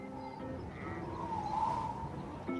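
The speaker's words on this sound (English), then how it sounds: "It's the sheep." Sheep bleating inside a music track, a single drawn-out wavering bleat rising and falling over a steady musical backing, clear and fairly close.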